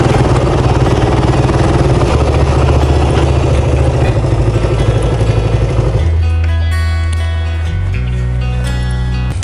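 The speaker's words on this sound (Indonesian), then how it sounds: "di luar kayaknya ada suara motor atau mobil ya? Kayaknya suara motor deh" A loud motorcycle engine idling and clattering close outside a house, a steady rough rumble that changes tone partway through.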